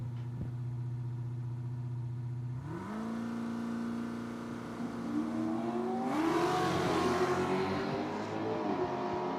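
A classic Oldsmobile Cutlass drag racing at Cordova Dragway, engine idling steadily before a sharp launch, then revving hard and climbing through gears as it pulls away down the strip, loud and alone.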